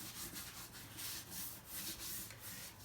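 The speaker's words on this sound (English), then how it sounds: "I'm going to wipe off the table here." A table being wiped down with a disposable wipe: soft, rhythmic rubbing strokes repeating about every third of a second, close and quiet, no voices.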